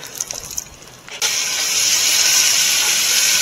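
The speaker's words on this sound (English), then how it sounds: "Alright, so we're slow cooking the bacon." Bacon frying in a pan over a campfire, a steady bright sizzling hiss that jumps up sharply and holds loud and continuous after a quieter start.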